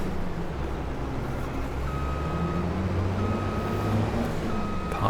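Reversing beeps from a truck backing a trailer into place sound as a steady run of evenly spaced, moderately loud tones over a continuous low engine rumble.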